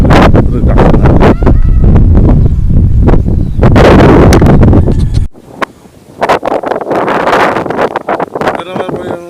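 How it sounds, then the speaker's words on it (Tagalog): Strong wind blasts buffet the internal mic of an AKASO Brave 7 LE action camera, a loud roaring rumble that drops out briefly and then comes back in gusts while someone speaks. "Malakas po yung hangin."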